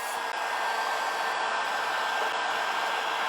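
A hair dryer blows steadily and loudly at close range, drying a painted clay craft piece, one unbroken whoosh with no talking.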